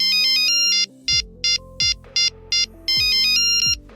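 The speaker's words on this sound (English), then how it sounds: "early mobile users hacked into Märket sequences to compose tinny, monophonic ringtones" A tinny, monophonic mobile phone ringtone plays a quick beeping melody of sharp repeated electronic notes, loud and alone, over a low synthetic bass line.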